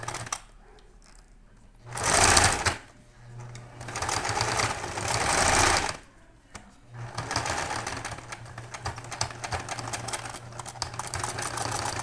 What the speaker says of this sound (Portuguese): A gente vai passar uma costura aqui.